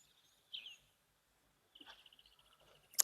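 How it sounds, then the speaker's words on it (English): Faint, high chirps come from a grey-headed sparrow, a short call followed by a quick series of rapid repeated notes in a quiet setting at a waterhole. "Can hear the grey-headed sparrows chirping about that."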